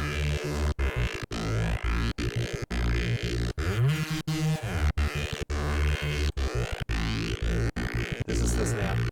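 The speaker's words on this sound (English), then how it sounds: "and this is the snare." Snare drum sample triggered in a DAW within a Reese bass production, sounding as regular sharp hits that rhythmically duck a dense, loud, sustained bass-heavy mix, with no talking.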